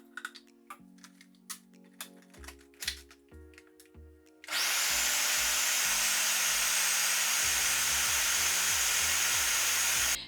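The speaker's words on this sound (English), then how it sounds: "ladle this in portions into the blender and give it a good blend" A blender whirs on to purée ginger carrot soup, a loud steady roar that kicks in after a few seconds of clinking and handling sounds and runs without a break to the end.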